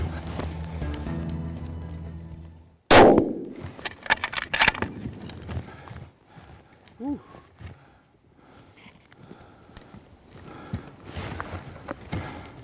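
A single sharp rifle shot rings out during a hunt in Africa, a loud sudden crack near three seconds, followed by rustling, movement and quieter outdoor sounds.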